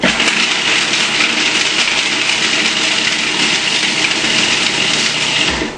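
A blender chops olive oil, garlic, salt and cashews, a loud, steady whirring motor with gritty rattling from the nuts, running close and unbroken for several seconds.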